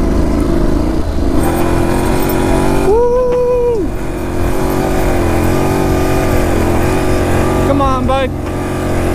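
A Honda NC700X adventure motorcycle engine runs loud and close while riding through sand dunes, revving with shifting pitch, and a rider talks over the steady engine noise.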